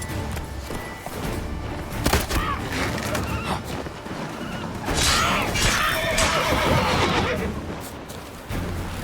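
Roach the horse in The Witcher 3 gives a loud whinny, with hoof clip-clops and game action sounds around it in a busy, dense mix.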